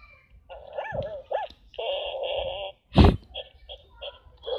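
A dog being played with makes high whimpering and yipping sounds, with a few short barks and one loud bark close by, and almost no talk.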